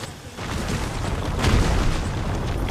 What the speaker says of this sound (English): They're nading us.